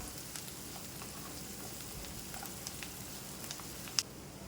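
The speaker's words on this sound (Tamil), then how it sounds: "இப்போது கொஞ்சமாக கருவேப்பிலை சேர்த்து நல்லா வதக்கிக்கோங்க" Curry leaves and turmeric sautéing with onions in a pan for a quick curry, giving a steady soft sizzle and crackle throughout with one sharper pop near the end.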